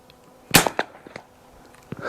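A Burgess light carbine rifle fires a Cowboy Action factory load outdoors: a single sharp, loud report with a short echo, followed by faint trailing noise.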